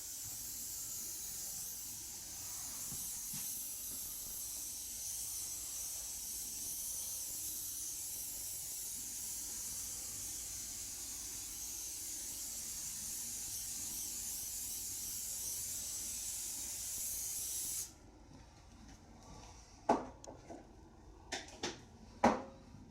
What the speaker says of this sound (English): You want to make sure that you get some non-stick spray on your smoker rack